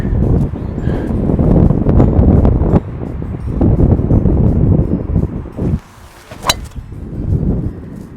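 Strong gusts roar and buffet the microphone in heavy bursts, easing briefly before blowing hard again outdoors on a golf course in St Andrews.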